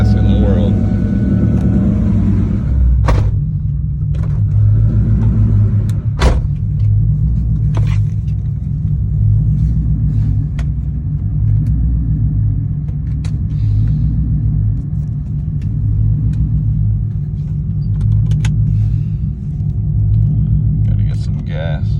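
A 2004 Ford Mustang GT with a straight pipe exhaust and manual transmission drives along, its deep loud rumble steady throughout with a few sharp clicks and knocks inside the cabin, while someone talks over it.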